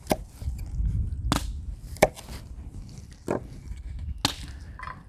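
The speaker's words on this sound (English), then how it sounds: "you're just going to chop the root up into small little chunks" Dandelion root being chopped into small chunks before charring over a fire, with five or six sharp, separate knife strikes on a board at an uneven pace, close and clear over a low rumbling background.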